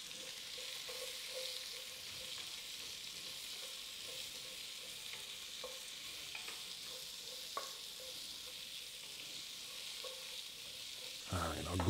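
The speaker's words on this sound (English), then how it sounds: "I'm gonna go ahead and throw these onions and peppers in there now" Onions and peppers sizzle in a Dutch oven with oxtails, a steady moderate frying hiss with occasional scraping and stirring clatter, getting louder near the end.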